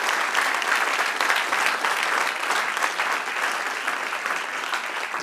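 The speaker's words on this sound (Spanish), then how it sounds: "Vamos a darle un fuerte aplauso a Jesús" A church congregation gives strong, sustained applause. The loud, dense clapping holds at an even level for the whole stretch with no voice over it.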